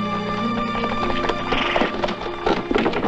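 Horses' hooves clatter on wooden boarding as two horses are led aboard a ship, several close, uneven clops over a steady background of music and ambience.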